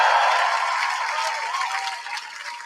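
A crowd at an outdoor Trans Pride march in Brighton cheers and claps, a steady, dense roar of applause that slowly fades.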